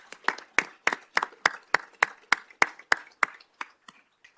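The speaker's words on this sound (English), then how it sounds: "Give him a round of applause, all right?" Applause at a city council meeting, heard as a sparse run of about fourteen distinct, evenly spaced claps in a steady rhythm, fairly close and crisp, tapering off at the end.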